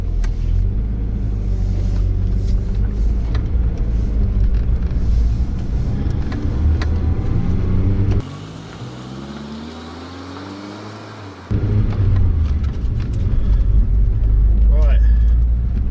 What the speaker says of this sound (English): So let's see what this Volvo can do, eh?